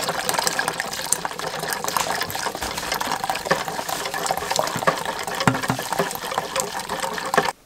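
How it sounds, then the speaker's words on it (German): Boiled water being poured slowly into a pot for cooking rice, a steady splashing stream lasting several seconds before stopping abruptly, close and alone. "Und ich gebe auch schon mal etwas gekochtes Wasser hinzu, so langsam, damit es so ein bisschen Temperatur annimmt."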